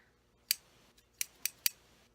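Four sharp metallic snips from a pair of pinking shears, spaced unevenly with a short pause after the first, crisp and close in otherwise quiet surroundings.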